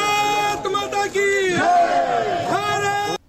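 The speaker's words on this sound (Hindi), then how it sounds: "जोरदार तालियों के साथ बाबूलाल मरांडी जी का स्वागत है" At a welcome for politician Babulal Marandi, a large crowd chants and shouts in unison. Loud, voiced cheering rises and falls in short bursts across the whole moment.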